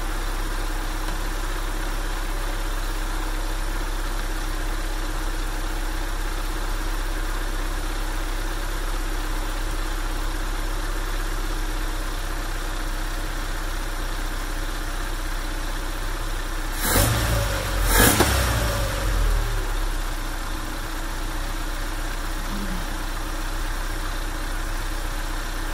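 Mazda B2000/B2200 pickup engine idling steadily nearby after an idle-speed adjustment, a continuous low drone through the whole stretch with a brief louder bump partway through.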